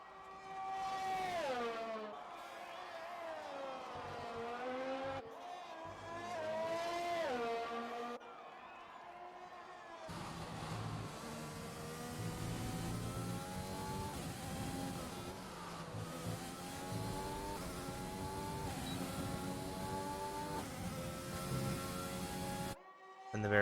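Formula 1 car engine in the F1 2020 racing game, revving up through the gears as it accelerates down a straight at Monza, with repeated high-pitched rising whines and gear shifts, loud and steady, followed by sustained high-rev drone.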